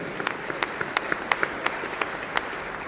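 An audience at a technology entrepreneurship event claps, moderate applause with distinct individual claps standing out over a soft steady patter, heard from within the crowd.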